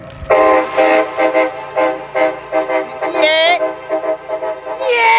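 Train horns sound at Horseshoe Curve in Altoona, Pennsylvania, during a horn honk event. Several loud, sustained blasts repeat in pulses, with excited shouting from the crowd over them.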